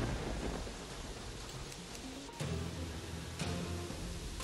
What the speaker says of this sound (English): But it was just thunder.